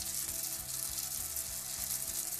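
Two cloves of sliced garlic sizzle in a pan while cooking risotto, a steady close crackling hiss of frying fat with faint stirring beneath, continuous and without talk.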